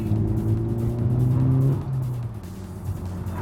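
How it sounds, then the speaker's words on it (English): Honda Civic Type R engine note rising sharply as revs are matched on a downshift, then dropping to a lower drone with road rumble underneath on a bumpy UK B road. "Rev match."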